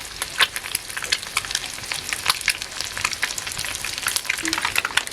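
Eggs for a masala tawa fry crackle and spit on a hot tawa over a wood-fired chulha, a dense, steady sizzle with sharp pops running close and loud throughout, with no voices.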